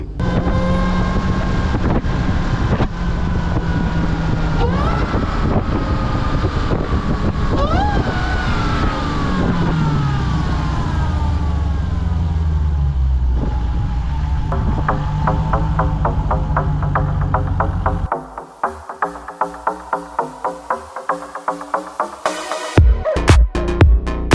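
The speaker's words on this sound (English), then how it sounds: "This car sounds better with the hood off." A Hellcat car engine with the hood off idles and revs steadily with a wind-buffeted rumble, the pitch rising and falling, then settles into sharp rhythmic ticking pulses near the end.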